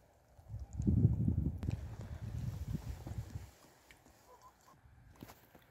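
Geese or ducks honk and squawk in a noisy cluster close by on a Wisconsin homestead in winter, loudest early on, then fading to quieter calls and faint rustling.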